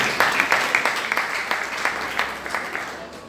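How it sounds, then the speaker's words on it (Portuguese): A church congregation claps together in a sustained round of applause, steady and moderately loud, with voices mixed in underneath. "Então vamos aplaudir o Senhor Jesus, que Ele sempre está presente."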